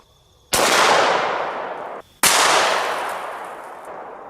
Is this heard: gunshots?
yes